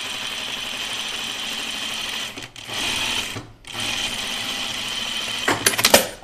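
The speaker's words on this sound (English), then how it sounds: "I feel like my machine likes to stitch it better." A sewing machine stitches a Colette Myrna dress in a steady, buzzing run, broken by two brief pauses and ending with a few louder clatters.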